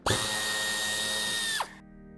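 A power tool whirs steadily while removing screws from the bumper of a 2003-2009 Toyota Land Cruiser J120/J125, one sustained high-pitched run that winds down and stops near the end, close and clear.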